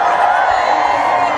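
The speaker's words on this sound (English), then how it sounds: "Thank you so much for cheering us all out so loudly" A crowd at a K-pop group's concert in Chicago cheers and screams loudly and steadily, a dense, continuous wall of voices.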